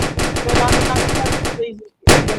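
Rapid automatic gunfire in the Roblox video game, a loud dense burst of shots for about a second and a half, a brief pause, then another loud burst.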